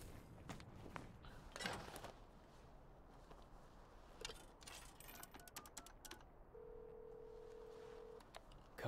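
Phone dialing in Devil May Cry 5, a string of quick keypad clicks followed by a steady held tone, faint against a low hum.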